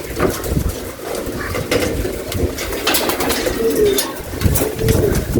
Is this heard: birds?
yes